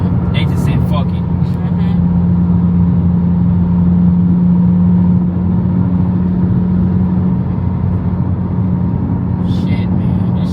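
A 500hp Mk5 Toyota Supra cruising on a freeway, heard from inside as a steady, loud engine drone with a constant low hum and road roar that runs unbroken throughout.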